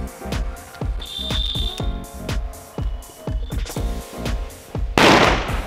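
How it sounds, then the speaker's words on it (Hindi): A Diwali firecracker set off inside a cardboard gift box crackles with a rapid run of sharp bangs and pops, close and loud, ending in a harsh burst of hissing noise. "ओ देखो फट गया।"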